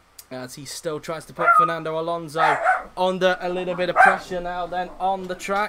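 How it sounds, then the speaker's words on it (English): In the background a dog barks during a Formula One-style race at Yas Marina in Abu Dhabi, heard faintly under continuous, dominant spoken commentary. "So if you can hear me dog in the background now then"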